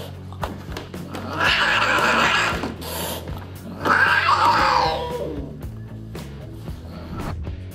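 An angry, aggressive cat hisses and yowls in two long, loud bursts, with quieter shuffling and small knocks between them and no talking.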